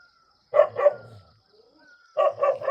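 A dog barks in a quiet village yard, one pair of sharp barks followed after a pause by a quicker run of three, fairly close, with a faint bird call in the background and no talking.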